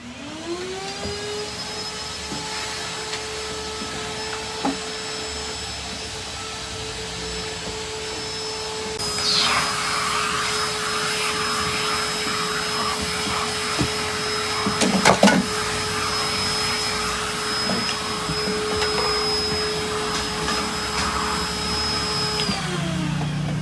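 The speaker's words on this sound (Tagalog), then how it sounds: "Yung vacuum niya." A wet-type vacuum cleaner runs steadily on a room floor during a cleaning-service visit, a continuous close whine with a sustained tonal hum and a brief louder clatter midway.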